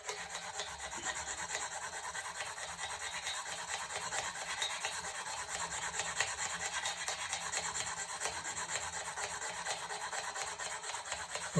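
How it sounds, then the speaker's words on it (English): A diamond file works the edge of a tungsten carbide trimming tool, producing a continuous fast gritty rasping of short back-and-forth strokes, close and steady with no pauses. "The only diamond can take care of the tungsten carbide, so that's why you want to use the diamond file."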